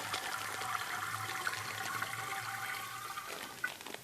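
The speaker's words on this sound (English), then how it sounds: "pour the sugar water in there" Sugar water pours steadily into an ice cream machine in a continuous trickling splash, fairly quiet and close, with a faint low mechanical hum underneath.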